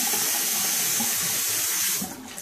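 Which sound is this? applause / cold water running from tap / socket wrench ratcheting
cold water running from tap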